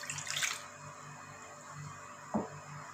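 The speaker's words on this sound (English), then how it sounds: "now I am pouring the water" Water poured into a big bowl while making no-knead bread, a short splashing gush at the start, then a quieter trickle with a small splash near the end, all without talk.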